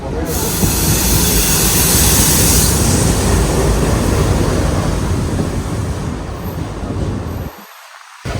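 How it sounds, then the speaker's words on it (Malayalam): Loud continuous roar and rattle of the Velankanni Express heading to Ernakulam, heard from on board with a steady rushing hiss that eases near the end as the noise drops. "നമ്മുടെ സ്വന്തം വേളാങ്ങനെ എക്സ്പ്രസ് നമ്മൾ എറണാകുളം പോവാണ്"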